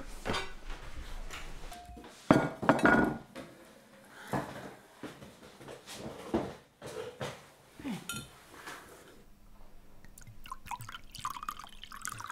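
Ceramic plates clinking and clattering as they are lifted out of a warm oven and handled in a home kitchen, a series of close, irregular chinks and knocks with quieter gaps between them.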